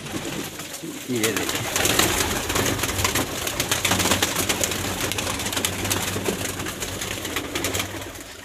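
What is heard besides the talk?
pigeons cooing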